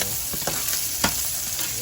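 Garlic and onion fry for chop suey in a pan, giving a steady close sizzle with a few soft stirring knocks, brief and even, with no one speaking.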